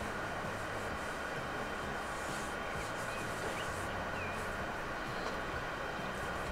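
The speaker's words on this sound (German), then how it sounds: "Die Straßenbahn fährt immer noch über die Holzbrücke." A tram in the Transport Fever game rolls across a wooden bridge, giving a steady, dense rumble of rail noise with faint higher clatter throughout, at even loudness with no talk.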